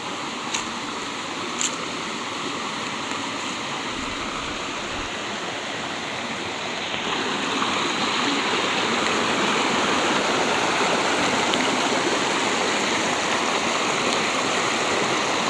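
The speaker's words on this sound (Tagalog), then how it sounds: "Ito po yung una naming tatawidan na sapa." A small, clear flowing stream in the countryside, a steady broadband rush of water that grows louder and closer partway through as it is approached for crossing, with no talk.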